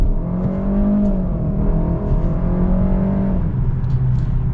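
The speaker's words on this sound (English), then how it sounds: "we're actually gonna pop it over into sport and see if we can get a little acceleration here" A 2021 Kia K5 EX accelerates in sport mode, its engine note rising steadily, then settling, heard from inside the cabin as a loud, continuous hum.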